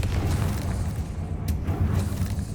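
A Confringo fire spell blast in the Hogwarts Legacy video game lands as a deep rumbling boom, with a low roar sustained throughout and a couple of sharper crackling bursts rising above it.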